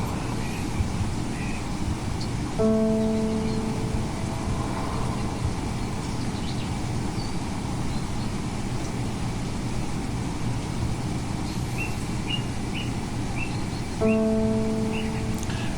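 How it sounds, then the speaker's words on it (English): Soft, steady rain hiss runs throughout at low volume, with occasional distant bird chirps and two brief tonal hums near the start and end. "listen to the sound of the rain and the birds"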